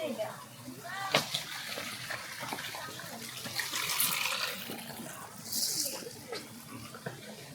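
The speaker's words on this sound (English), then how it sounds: "Water flowing everywhere." Running water flows steadily in the background while people talk nearby, with occasional splashy bursts rising above the stream.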